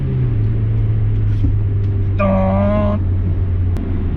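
A Honda Civic EK engine drones steadily at a low, loud pitch, with a brief tonal burst rising over it midway through.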